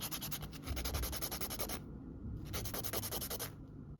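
Nail file rasping over polygel nails, a fast, steady back-and-forth scratching with a short break midway, close and fairly loud, no talking.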